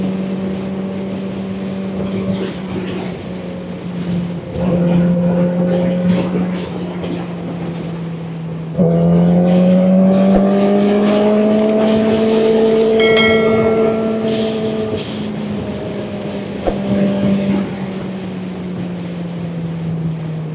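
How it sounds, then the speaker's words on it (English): A Kawasaki ZX-4RR sport bike revs up and down while riding, its engine tone rising and falling in sustained pulls, loud and close with some wind noise. "Man, this freaking bike sounds amazing."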